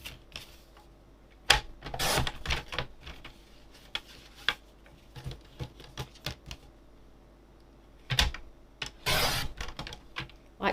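A paper trimmer slices through card stock for a papercraft panel, giving sharp irregular clicks and scraping bursts between quiet gaps, close and moderately loud with no voices.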